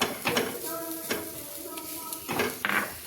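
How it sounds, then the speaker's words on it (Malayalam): Deboned fish being mixed into momo filling in a bowl: a series of scraping, clattering stirring strokes, close and moderately loud, with no talking. "ഇത് നമുക്ക് രണ്ടും കൂടെ അങ്ങ് മിക്സ് ചെയ്ത് വെച്ചാൽ മതി"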